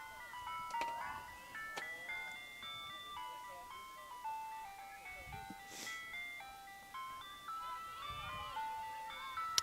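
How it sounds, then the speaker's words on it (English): Near a softball field, an ice cream truck's tinkly electronic jingle repeats its melody faintly in the background, while occasional crowd noise and speech rise over it. "Maybe hearing the ice cream truck in the background."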